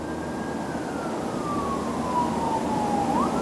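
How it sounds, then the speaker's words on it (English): An emergency vehicle siren wails at some distance outdoors near a bridge at night, one long steady tone sliding slowly downward before sweeping back up, over a constant background rumble. "Sirens now"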